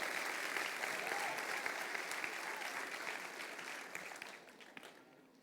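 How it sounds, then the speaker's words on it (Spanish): A church congregation at a Sunday morning service breaks into sustained applause: dense, steady clapping from many hands that gradually thins and fades toward the end. "denle un aplauso al Señor, amén."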